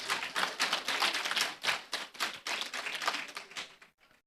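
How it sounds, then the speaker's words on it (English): An audience at a budget address bursts into sustained applause, many hands clapping densely and fairly close for about four seconds before trailing off. "the applause is from those that are over 50"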